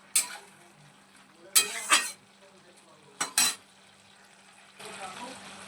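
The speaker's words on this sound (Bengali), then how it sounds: "একটু নেড়ে চেড়ে নেব।" Ash gourd cooking in its own released water is stirred in a pan, a few short scraping clatters of a utensil against metal over a faint simmer, with a soft sizzle rising near the end.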